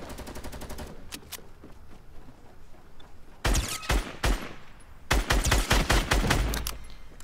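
Automatic gunfire bursts in Fortnite Mobile: a rapid string of shots at the start, then two long, loud sustained volleys later, close and punchy with no talk.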